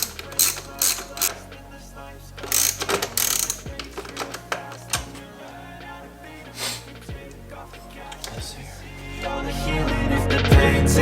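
Ratchet with a 10 mm socket snugging up bolts on a BMW 335i N55 charge pipe install, with bursts of quick clicking interspersed with metallic clanks and handling noises, close up.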